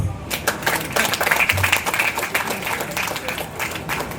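Thunderous applause at the MABA basketball stadium groundbreaking ceremony in Kuala Lumpur, a crowd clapping in a thick, sustained roar with sharp individual claps near the front and some voices beneath.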